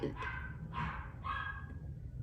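A dog barks indoors three times in a row, evenly spaced and moderately loud, over a steady background hum.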